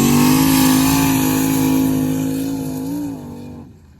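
Turbocharged Chevy Blazer engine revving hard on the sand dunes, a loud, steady high-pitched drone with a rising whine that climbs, dips near the end and then cuts off, with no talking.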